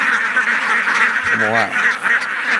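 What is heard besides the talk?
ducks quacking on a free-range duck farm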